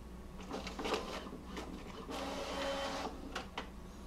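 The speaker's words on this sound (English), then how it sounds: "the Lexmark series 6500, and let me go ahead and print one copy" A Lexmark 6500 series wireless printer printing a page: mechanical whirring, clicks and paper-feed rolls in short bursts, fairly quiet and close, with no talk.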